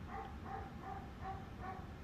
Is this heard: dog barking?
yes